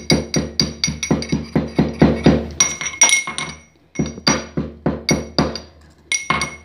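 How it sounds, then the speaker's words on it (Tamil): Cloves pounded to crush them, a rapid run of sharp, ringing clinks like a pestle striking a hard mortar, loud and close in quick regular bursts with brief pauses between sets. "இந்த லவங்கத்தை நல்லா 1/10 இடிச்சுக்கலாம்"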